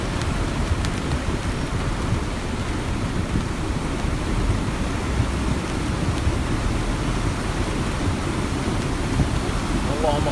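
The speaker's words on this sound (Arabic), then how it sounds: "هذا السيل ما شاء الله تبارك الله" Heavy rain falls and a flash flood torrent rushes in the Asir region of Saudi Arabia. A loud, continuous roar of rushing water and rain runs unbroken throughout.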